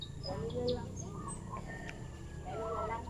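Chickens clucking nearby in a backyard setting, short scattered clucks and chirps under a person talking.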